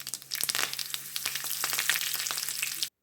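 Mustard seeds, cumin and dried chillies sizzling in hot oil in a kadai on a stove, a steady crackling fry with sharp pops from the seeds, close and loud, cutting off abruptly.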